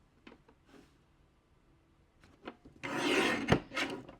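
A paper trimmer blade slides through scrapbook cardstock in one long, close rasping cut, with a few light taps and handling sounds from the paper and trimmer just before it.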